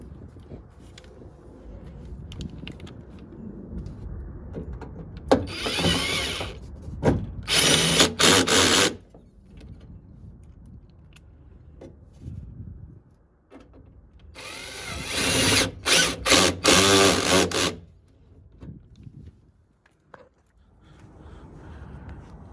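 Bolts going into the manual window regulator of a 1995 Honda Civic, driven by a power drill in two loud bursts of several seconds each, separated by quieter handling noises, close up and with no talking.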